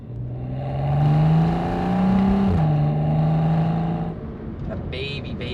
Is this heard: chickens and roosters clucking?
no